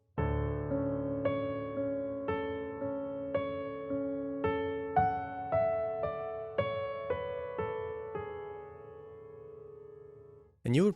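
Solo piano plays a right-hand transition, a steady sequence of single sustained notes struck one after another at a calm, even pace, each ringing and decaying into the next, ending with a brief noise.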